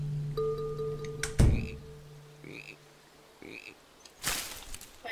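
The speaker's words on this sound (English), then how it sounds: "Maybe that's the frog? The sound of a frog?" Frog croaks sound in the hidden-object adventure game Wind Peaks, a few short separate calls over a soft tonal game background, with a sharp thunk partway through.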